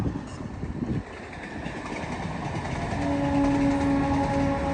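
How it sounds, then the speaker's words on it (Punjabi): A train rumbles past close by with a steady roar, and a long horn sounds toward the end. "ਟ੍ਰੇਨ ਲੰਘ ਜਾਣ ਦਿਓ"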